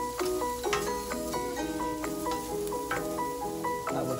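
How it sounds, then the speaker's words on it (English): Wild mushrooms sizzle in a pan for truffle pasta, a steady close crackle of frying with light clinks and stirring touches throughout, no voices. "So the mushrooms are gonna cook for about 2 to 3 minutes"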